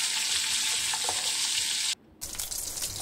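Hilsa fish sizzling in mustard oil, a loud continuous frying hiss that cuts out abruptly for a moment, then returns with sputtering crackles close by.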